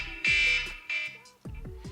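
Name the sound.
smoke detector beeping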